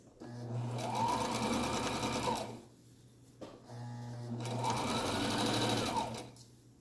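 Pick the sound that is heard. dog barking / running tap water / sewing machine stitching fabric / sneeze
sewing machine stitching fabric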